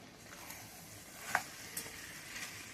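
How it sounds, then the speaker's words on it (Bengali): Potatoes fry in oil with mutton and spice masala, giving a faint, steady sizzle with a few soft clicks and taps of stirring. "এরকম আলু দিয়ে আর কষি।"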